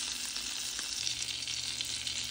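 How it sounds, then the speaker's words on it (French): Butter sizzles steadily in a hot frying pan, a dense continuous crackle with a few faint stirring scrapes, close-up and with no talking. "J'ai mis du beurre dans une poêle chaude."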